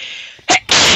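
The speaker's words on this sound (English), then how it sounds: "I didn't mean to sneeze in the mic." A single sharp sneeze bursts close into a microphone, preceded by a faint breath and followed by a loud, sustained noisy blast, with steady background hiss from a Minecraft adventure map playthrough.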